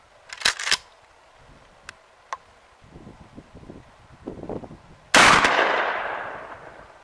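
Two loud blasts of a 12 gauge shotgun firing Winchester 3 inch magnum slugs at an outdoor range, each a sharp crack, the second with a long ringing decay, with soft handling noises between.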